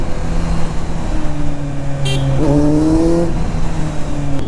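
Busy city road traffic in Hyderabad heard from a motorcycle: a steady engine and road rumble with passing vehicles and a brief honk partway through, with no talking.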